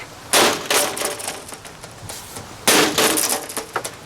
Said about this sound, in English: I'm just wailing on the thing trying to get it to break for you guys, and nothing.